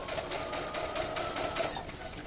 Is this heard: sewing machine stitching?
yes